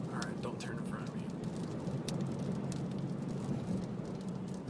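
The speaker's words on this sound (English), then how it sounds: "you can hear all the dust and rocks and stuff bouncing off the windshield" Dust, grit and small rocks from a Phoenix dust storm patter and tick against a car windshield, a dense close rattle over steady road and wind noise while someone talks.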